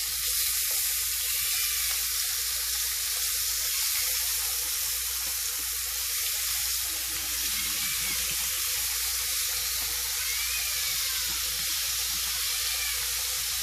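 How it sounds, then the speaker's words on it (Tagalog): Beef pan-frying in oil for Bistek Tagalog gives a steady loud sizzle and hiss that runs without a break and with no talking over it. "I'm gonna pan fry the beef."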